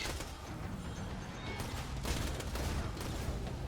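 Omen shotgun blasts in Borderlands 2 fire point blank within a dense, continuous roar of game gunfire and explosions, loud and steady throughout with heavier bursts toward the end.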